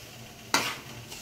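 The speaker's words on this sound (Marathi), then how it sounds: "तर इथं रवा भाजत आहे" Semolina roasting in a pan over medium heat gives one sudden loud rasping stir that quickly fades, with a faint softer scrape after it.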